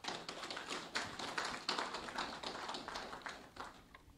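A crowd claps at a university ceremony, a steady, dense patter of many hands sustained for several seconds, faint and distant with no voices over it.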